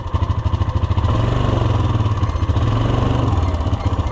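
Side-by-side UTV engine running while being shifted into reverse and neutral, a loud, close, steady thrumming idle with a rhythmic mechanical clatter.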